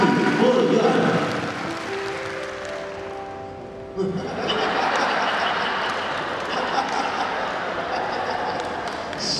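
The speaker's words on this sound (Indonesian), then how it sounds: "tepuk tangan buat Bapak Basuki Hadi Mulyono" A crowd applauds Basuki Hadi Mulyono at a campus event, with a dense, sustained wash of clapping that swells after the first few seconds and continues steadily, with a voice heard over it at the start.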